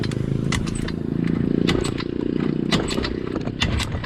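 A Yamaha Mio i scooter that won't start is kick-started by hand: a steady mechanical churning with repeated sharp clattering kicks, close and fairly loud, with no voices.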